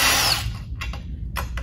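A power tool fitted with a 9/16 socket zips out a cavitation plate bolt on a Mud Buddy Sport V outboard lower unit: a loud whirring burst up front, then a few light clicks and clunks nearby.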